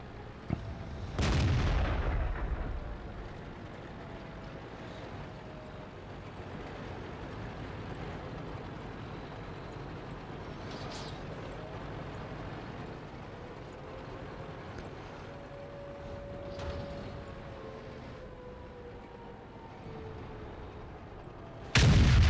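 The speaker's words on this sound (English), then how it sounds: "There's that troll cannon in action again." A tank cannon booms in World of Tanks, one heavy near blast early on, then fainter distant shots over a low engine hum, and a final loud boom at the end.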